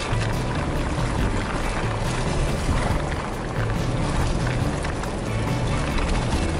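A 2018 Jeep Compass drives off-road through mud on a hill, with a steady, dense rumble of tires churning and splashing through wet muck, constant and close.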